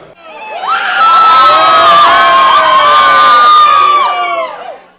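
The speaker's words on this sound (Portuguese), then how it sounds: "gritaria e tumulto." A crowd shouts and cheers loudly at an airport as Brazil national team players arrive behind a police cordon. The roar is sustained, with whoops and high children's yells, swelling in and fading out over a few seconds.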